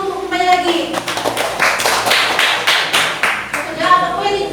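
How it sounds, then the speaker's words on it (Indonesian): Students in a classroom clap their hands in a quick, rhythmic unison pattern of sharp slaps, the beat slowing and speeding, with voices audible between bursts. "kalian tepuk tangan dulu untuk kembali lagi"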